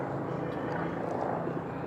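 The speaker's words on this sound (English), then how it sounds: "There's a helicopter landing right now." A helicopter lands at an airport across the Colorado River in Laughlin, Nevada, its rotor making a steady, distant, rumbling drone that fills the whole stretch without a break.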